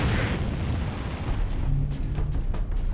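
A grenade goes off in Warhammer 40k: Space Marine Master Crafted Edition, a loud, sustained rumbling boom with dense low-end roar and scattered crackling debris filling the whole stretch.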